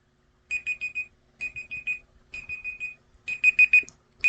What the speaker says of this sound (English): the timer is almost done